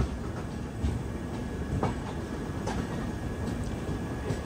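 A Chennai–Jaipur superfast express easing its speed after leaving the platform at Vijayawada Junction, heard from inside as a steady rumble of wheels and rails with faint clicks, continuous and moderately loud with no talking.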